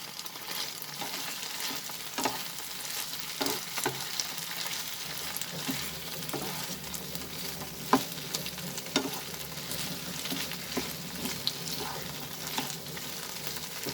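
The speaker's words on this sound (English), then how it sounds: "So now I am going to add the broccoli to this recipe. So I'll add a little first, then mix it." Broccoli and chicken frying in a pan, a continuous soft sizzle with occasional scraping stir strokes throughout.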